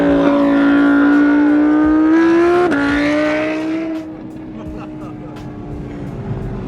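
Audi R8 V10 engine revving loudly from outside the car, a strong sustained roar whose pitch climbs, dips briefly and then settles into a steadier lower drone, with people talking over it.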